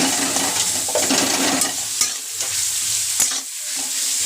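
Oil fries loudly for a chilli dish, a dense crackling sizzle with sharp stirring clatters and brief dips where the hiss quiets.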